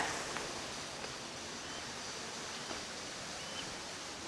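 A river flows below a campsite near Mahogany Falls in Trece Martires, Cavite, a faint, steady rushing wash of water with no talking.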